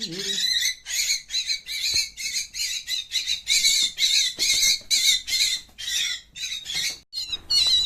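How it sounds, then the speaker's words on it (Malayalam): A pet myna bird squawks in a long run of harsh, repeated calls, loud and close, with brief pauses between bursts and no one talking over it. "അപ്പോൾ ഞങ്ങൾ ഈ മൈനേനത് ഫീഡ് ചെയ്യാൻ തുടങ്ങുകയാണ്"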